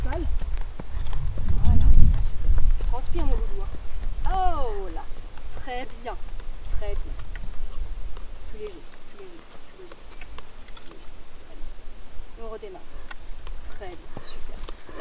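Horse hooves clip-clop during groundwork training of a horse that balks and refuses to move forward, a few distinct beats early on under frequent close talk from a handler.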